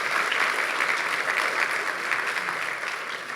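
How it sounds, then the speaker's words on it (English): An audience applauding at the Martha's Vineyard African American Film Festival, with dense, steady clapping from a crowd throughout, loud and close. "Give us a round of applause for supporting it."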